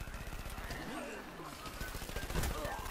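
Rapid gunfire in Plants vs Zombies Garden Warfare, a fast stuttering burst of shots that runs almost the whole time under a player's voice and game effects.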